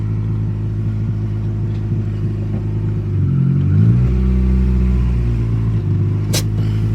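A car engine idles with a steady low rumble after a clutch repair, then swells as the car is put in gear and starts to roll, with a brief sharp click near the end.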